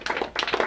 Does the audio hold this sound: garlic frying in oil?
no